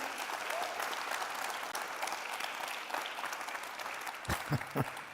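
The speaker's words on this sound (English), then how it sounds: "I think we owe a big round of applause to Eric and Eitan just for being here" A very faint round of applause from an audience at a talk on Judaism and the Middle East, soft continuous clapping with a few sharper claps near the end.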